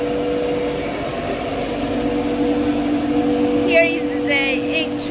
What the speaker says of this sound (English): This is air blower.